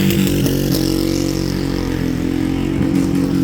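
A motorcycle engine revs loudly and continuously at close range, a rough, throbbing roar with small surges in pitch and no voices over it.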